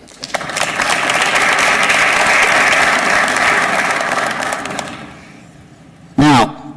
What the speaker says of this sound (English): So please give them a well-deserved round of applause.